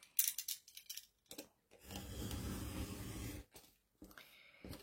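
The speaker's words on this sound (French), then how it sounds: "Pour le découper, je prends la règle, je fais 1 mm comme ceci et je fais avec mon cutter." A craft knife cuts paper along a ruler in one sustained close scraping stroke, framed by quieter handling taps and clicks.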